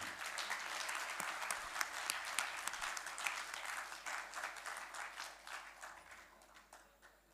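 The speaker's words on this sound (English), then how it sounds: "Guys, give a big round of applause for them." A university audience gives a round of applause, the sharp, fairly dense clapping sounding distant and faint, with a low steady hum underneath, thinning out toward the end.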